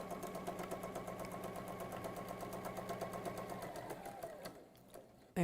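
A sewing machine stitches fabric with a fast, even mechanical chatter up close, then slows and stops near the end.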